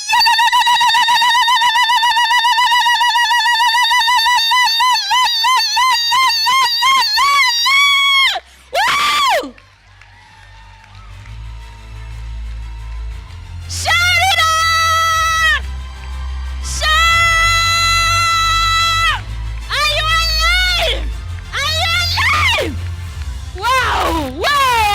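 A woman performs a vigelegele ululation at a Ladies in Leadership Association conference and launch: a loud, high, rapidly trilling cry held for several seconds, then repeated in shorter bursts as a crowd cheers and claps underneath.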